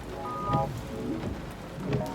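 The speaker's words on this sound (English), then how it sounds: "raining today. Pretty heavy too, some thunder." Heavy rain falls in a steady hiss with scattered drops tapping nearby surfaces, while low rumbles come and go beneath it, with a faint voice at times.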